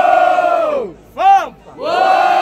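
Crowd at a rap battle roaring in bursts, loud shouting and cheering that swells, dips briefly, then surges again close by.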